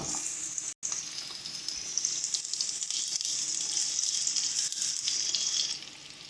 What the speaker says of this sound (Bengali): সুন্দর করে গোল্ডেন ব্রাউন করে পেঁয়াজটাকে একটু ভেজে নেব।